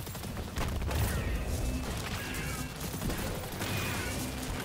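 Continuous dense weapon fire in the video game Destiny 2 during a Spire of the Watcher raid run, a steady barrage of shots with whooshing energy effects layered throughout.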